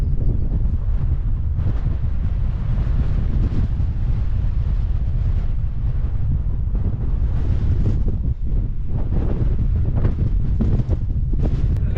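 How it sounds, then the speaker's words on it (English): Strong wind buffets the microphone on the exposed summit of Bredon Hill in the Cotswolds, a loud, continuous roar with gusty surges throughout and no talking. "wind's really picking up now"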